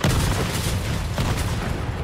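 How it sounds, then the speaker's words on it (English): Rocket explosions in Resident Evil 3 Remake on PS5 form a dense, continuous barrage of loud booming blasts that runs through the whole moment without any talk. "She's getting hit by rockets."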